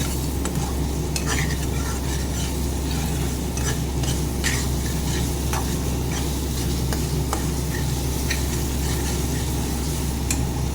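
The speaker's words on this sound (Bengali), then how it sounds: "এখন আমি এখানে জল দিয়ে দিচ্ছি" Fish curry masala, cooked down for pabda fish, sizzles loudly in a pan as water goes in. A steady, dense frying crackle runs throughout, with repeated scraping and clinks from a spoon stirring against the pan.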